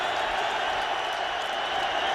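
Football stadium crowd roaring on third down and four during a Steelers versus Lions game, a steady, loud wash of cheering and noise with no break for the full two seconds.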